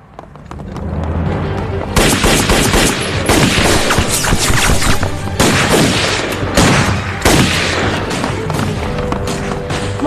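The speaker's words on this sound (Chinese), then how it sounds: "孟书记，枪声在那边，快走。" Gunfire fills a film action scene in which Japanese samurai are fought by a female agent: loud, dense volleys of shots and booming blasts roll on almost without pause, with a faint voice underneath.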